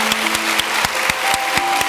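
Studio audience claps in a brief burst on a Turkish talk show, with distinct sharp hand claps over a faint steady tone.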